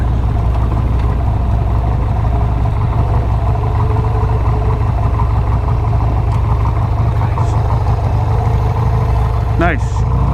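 A Harley-Davidson Sportster motorcycle engine idles with a steady, loud low rumble throughout, with a voice speaking over it.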